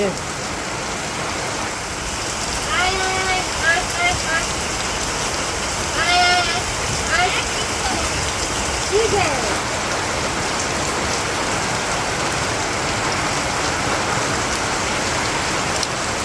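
Heavy rain pours steadily on a village, a dense unbroken hiss that fills the whole stretch, with brief voices and a few faint animal bleats rising through it.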